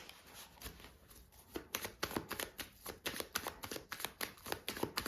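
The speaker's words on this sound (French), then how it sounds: "on va poser donc les 7 cartes" Lenormand cards are shuffled and laid out by hand, quiet at first and then a run of crisp snapping and slapping riffles in quick bursts, close and faint with no speech.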